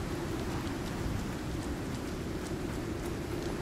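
Heavy storm rain pours down in the survival game Icarus: a dense, steady wash of drops drumming without pause, with faint distant rumbles underneath and no voices.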